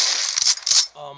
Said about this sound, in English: Gunshot keeps going off because it just does it every time I turn the phone on